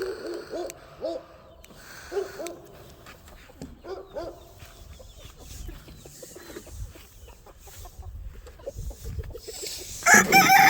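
Hundreds of chickens settling in for bedtime, with repeated short clucks and calls, some louder cries among them, over a quiet background and scattered movement noise.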